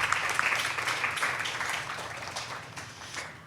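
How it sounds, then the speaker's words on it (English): An audience at a panel talk applauds a speaker: a full burst of dense clapping that gradually thins and fades toward the end. "Let's give a huge round of applause to Nikita Gupta."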